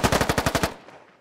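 A loud, rapid burst of automatic gunfire in the SquadOps military shooter game: about eight evenly spaced shots in under a second, then a fading echo.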